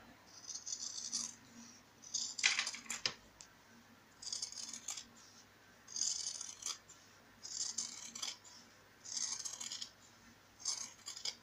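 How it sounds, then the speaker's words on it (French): Large sewing scissors snipping off excess fabric, close up, in repeated bursts of crisp metallic cutting strokes separated by short pauses, quiet and with no speech. "je vais prendre mon grand ciseau à couture et je viens couper l'excédent"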